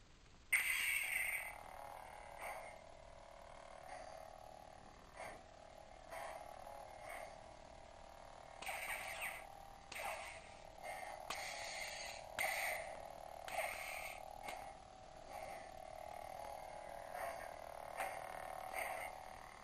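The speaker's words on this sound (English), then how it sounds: "This is a Sanken 2 Crossguard Saber sound font demo." A Sanken 2 crossguard saber sound font gives a steady electric buzzing hum, with brief swelling surges layered over it from time to time. It plays alone at moderate loudness, with no talking.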